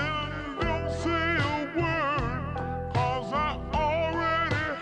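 A sample, warped to four bars and slowed so it sounds stretched and pitched lower, plays on its own as a thick, steady musical loop with pulsing low end and wavering vocal lines.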